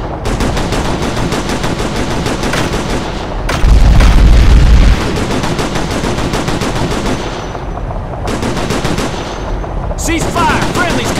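Loud, dense machine-gun fire from the combat game Operation Flashpoint: Red River rattles in rapid bursts with heavy booms mixed in, briefly pausing twice before the firing resumes, with shouted voices faintly under the din.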